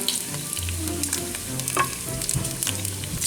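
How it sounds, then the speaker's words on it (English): Bacon sizzles and crackles steadily in a hot pan, a close, continuous frying hiss with occasional pops and no talking. "y'all want some bacon? Pop it in the pan, let it start doing that deal."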